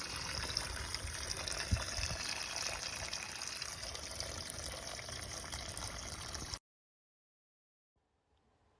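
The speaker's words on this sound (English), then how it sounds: "Here you can see the water flowing." Spring water runs steadily from a pipe at a natural spring development for an off-grid cabin, a continuous close trickling gush that cuts off abruptly near the end, leaving near silence.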